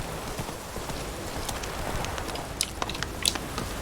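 Roach, the horse in The Witcher 3, runs with a quick, even drumming of hooves amid a rustling, noisy backdrop, with a few sharper clicks near the end.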